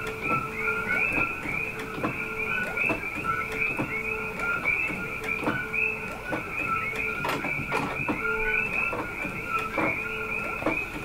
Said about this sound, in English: if you printed before with the Epson 8550, you know that printing at high quality, it prints real slow